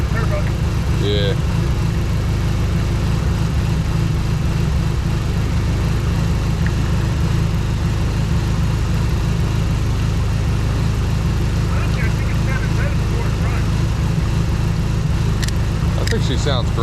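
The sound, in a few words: Dodge SRT-4 turbo engine idling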